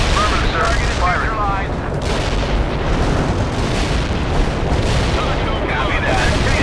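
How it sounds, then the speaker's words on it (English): Artillery barrage in the World in Conflict war game: a dense, continuous roar of booming fire and rumbling detonations, loud and sustained throughout, with radio-style voice chatter layered over it. "Set up artillery barrage."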